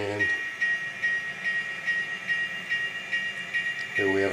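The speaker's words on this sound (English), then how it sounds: "here we have a train getting ready to come down Main Street." Model train on a layout getting ready to come down Main Street in a small-town scene, a steady rolling rumble with a repeating high whistle-like tone, fairly faint and continuous, ending in a brief louder burst.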